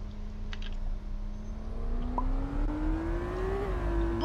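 A car speeds up from inside the cabin, its engine note climbing steadily in pitch over a constant low road rumble, with faint clicks and no talking.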